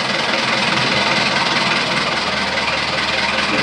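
An engine running steadily after being started with a flame start button, a loud, dense, continuous roar close by with an even rumbling texture throughout.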